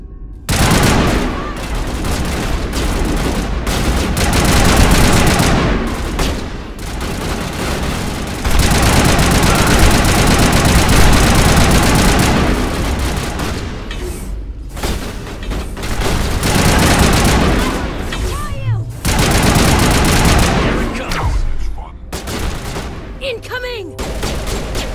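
Mass Effect Legendary Edition firefight: loud, dense automatic weapon fire rattles almost nonstop in long bursts with brief gaps, booming impacts mixed in.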